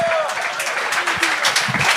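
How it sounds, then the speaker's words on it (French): Studio audience applauding and cheering on a French-language comedy game show as the first guest is introduced, dense steady clapping under excited voices and a tonal whistle-like sound near the start. "commence à applaudir"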